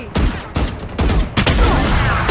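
Several heavy gunshots in the game Valorant ring out in quick succession, each with a booming echo that overlaps the next, loud and near.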